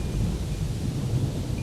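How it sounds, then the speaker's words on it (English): Low rolling rumble of thunder from a storm passing over an off-grid tent camp in Alaska, steady and moderately loud, with faint rain and wind hiss and no talk. "There's some thunder."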